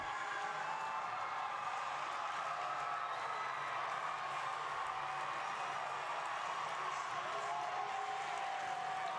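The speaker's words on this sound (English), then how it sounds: "The crowd making noise at the score for Aubrey Schwartz" A crowd at a BYU at SUU college gymnastics meet makes noise for a balance beam score, a steady, distant wash of cheering and clapping in a large arena that continues evenly throughout.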